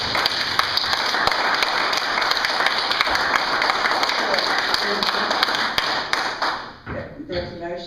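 Applause fills a county council meeting, a dense, steady clapping from a roomful of people that carries on for several seconds before thinning out and giving way to a few scattered claps and room noise.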